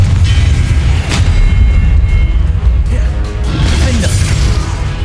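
Spell explosions from Confringo in Hogwarts Legacy boom as loud, heavy blasts amid ongoing game combat noise, with several rumbling hits across the stretch.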